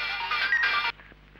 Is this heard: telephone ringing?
yes